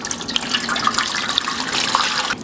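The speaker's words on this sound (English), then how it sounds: "all this hot water goes in there now" Hot water poured from a kettle into a large baking pan for a crème caramel water bath, a steady splashing, gurgling stream close by, alone without speech.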